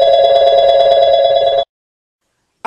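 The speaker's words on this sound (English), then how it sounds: "Then Trevor's phone rings." A mobile phone rings with a loud, steady electronic tone in quick pulses, then cuts off abruptly into silence before a brief restart at the very end.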